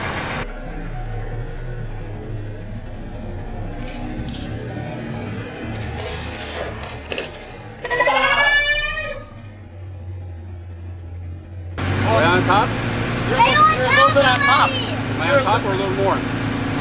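A Toyota Tacoma pickup idles with a low, steady rumble while rolling onto and crushing laptops, with faint scattered cracks and clicks, a louder surge in the middle and a rise near the end, as people talk throughout.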